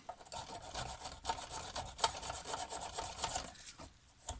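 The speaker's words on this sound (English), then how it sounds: "This is just an old shitty file. I'm not too worried about it" A metal file rasps along a hedge trimmer blade to strip off burrs, giving several steady, close scraping strokes with no pauses and no talk.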